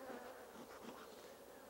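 Honeybees at an opened deep hive body during hive splitting buzz in a steady, dense drone, with one agitated guard bee whining close by, loud and continuous with no talking.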